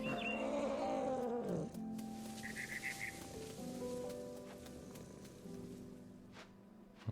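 Cat sounds from the video game What Remains of Edith Finch: tonal, drawn-out cries at moderate volume over a steady game ambience and soft background tones.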